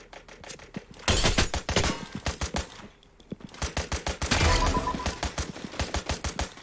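Rapid automatic gunfire in a shooting video game, dense bursts of loud close shots in quick rhythmic sequences with short pauses between volleys.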